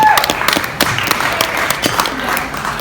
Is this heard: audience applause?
yes